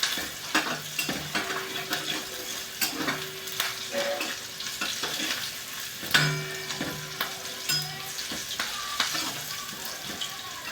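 Chopped onion sautéing in a pan while being stirred, with scraping utensil strokes and bursts of sizzle recurring every second or so, close and steady, with no talking.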